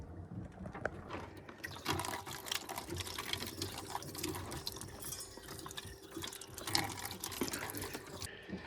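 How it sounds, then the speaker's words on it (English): Dishes rinsed with a small trickle of fresh water aboard a sailboat, splashing and running water with clattering bursts, close and fairly quiet, no talking. "I rinse them off with a very tiny amount of fresh water"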